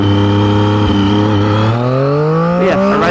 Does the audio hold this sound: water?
no